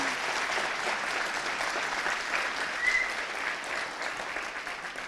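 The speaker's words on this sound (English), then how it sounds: "Big applause for him," Steady applause from a conference audience at DevConf honoring organizer Chris Ward, a dense, even wash of clapping holding for about five seconds with a slight swell near the end and no voices over it.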